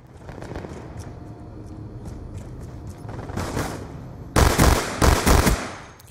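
Rapid video-game gunfire from Call of Duty Black Ops 2 crackles in a quiet rattle, then breaks into three louder, sharper bursts of automatic fire near the end, with no talking.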